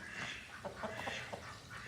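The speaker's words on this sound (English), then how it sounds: "The ducks are all in there ducking away." Ducks in an enclosure during an evening walk around a farm, giving a low, scattered run of quacks and clucky calls, moderately close, mixed with other fowl-like chatter and no talking.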